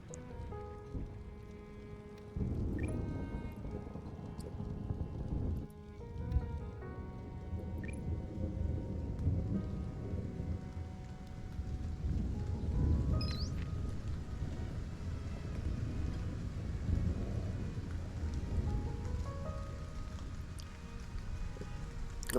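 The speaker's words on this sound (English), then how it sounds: "Thunderstorm. That's not good." Steady rain pours down in a thunderstorm in the alien-planet survival game Stranded: Alien Dawn, with dense broadband patter and rumbling low swells, while occasional faint voices talk underneath.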